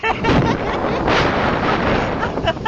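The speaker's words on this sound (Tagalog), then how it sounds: "Lakas ng hangin!" Strong typhoon wind buffeting the microphone in a loud, continuous roar with gusting surges, while excited voices shout over it outdoors.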